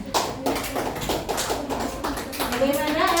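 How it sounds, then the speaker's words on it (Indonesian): Classroom group applauds a student team, a burst of clapping and hand taps mixed with children's voices and chatter throughout, fairly close and steady. "Oke, kasih tepuk tangan untuk kelompok 2."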